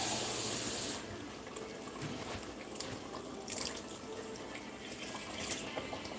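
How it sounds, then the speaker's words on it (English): Water pours and splashes into a pot of lamb stew, a strong rushing flow at first that settles into softer running and trickling, close by with no talk over it. "I'm going to add in more water."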